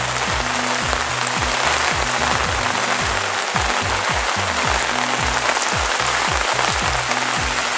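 Steady rain falls at a campsite with a dying fire, a dense continuous hiss of drops on surfaces with low irregular patters underneath, loud and close with no voices.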